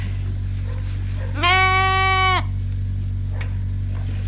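A lamb in a sunny sheep barn gives one clear, close bleat of about a second over a steady low hum, with no talk.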